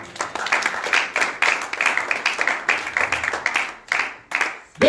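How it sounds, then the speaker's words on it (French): Church congregation applauding together during a French-language sermon, a dense sustained patter of clapping hands with a brief break near the end, fairly loud and continuous. "On acclame pour le Seigneur."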